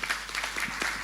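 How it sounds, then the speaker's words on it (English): Audience applause at the official reopening ceremony of an arts and culture sector, with a moderate, steady patter of many hands clapping throughout, heard alone. "Can you please clap for both of them?"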